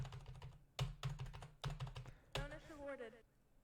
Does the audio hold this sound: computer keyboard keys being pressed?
yes